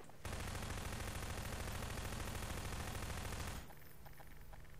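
Rapid automatic gunfire in Garry's Mod hammers at a drivable yacht in one dense, loud burst lasting a few seconds, then cuts off abruptly, leaving faint background game sound.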